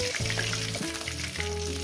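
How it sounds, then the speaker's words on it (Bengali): Pieces of desi catla fish frying in a pan of oil, giving a steady, close, dense sizzle that carries through the whole short stretch with no talking. "তার পাশে এখন মাছ ভেজে নিয়ে ফিরছি"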